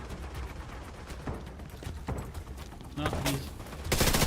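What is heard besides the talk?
gunfire in a video game, Battle for Brooklyn DLC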